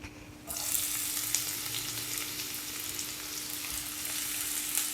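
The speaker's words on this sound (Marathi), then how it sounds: "आता आपण कांदा फ्राय करून घेऊया." Onions frying in a spoonful of oil in a pan for an egg masala, a steady loud sizzle that starts abruptly half a second in and holds close and continuous, with faint scrapes and no talking.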